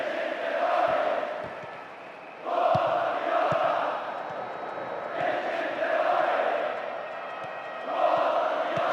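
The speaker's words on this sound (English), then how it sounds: "the crowd is adding to this as a spectacle. Noise they're making is terrific" Stadium crowd in PES 2010 during a Serie A match between AS Roma and ACF Fiorentina: a steady roaring crowd with rising waves of chanting and cheering that swell and ease every few seconds.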